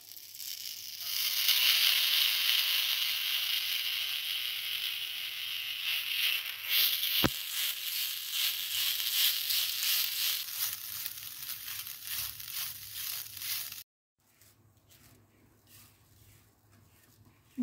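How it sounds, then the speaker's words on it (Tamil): Grated coconut dry-roasting in a pan for pandan-flavoured kolukattai, a steady close crackling sizzle with a scraping stir that runs for several seconds. A sharp knock sounds midway, and the noise then drops to a faint hush. "முதல்ல இந்த தேங்காய் பூவை வறுத்துக்கலாம்."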